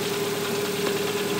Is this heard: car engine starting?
yes